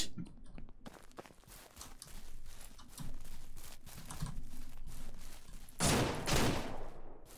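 Gunfire in the farming video game Ranch Simulator: scattered bursts of shots ring out over a noisy game background, with a louder, denser volley near the end.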